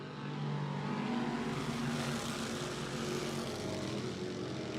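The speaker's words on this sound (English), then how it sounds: "You can hear the car bubbling." A race car engine bubbles and drones at a speedway during a night race, a steady, fairly distant roar that swells in quickly and holds at an even level with no talk over it.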